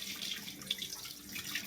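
Soaking water drains off rice and lentils that have soaked for hours, a soft, faint trickle and splash of water into a sink, uneven and close.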